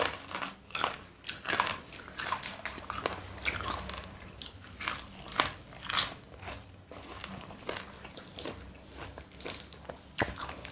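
Crispy fried pork is bitten and chewed close up, a run of sharp crunches and crackles in an irregular rhythm, with quiet moist chewing between them and no talking.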